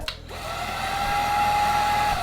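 A Dreame P10 cordless stick vacuum cleaner runs in its quietest mode, a steady motor whir with a fixed high whine that starts just after a brief click and holds evenly throughout, close and alone.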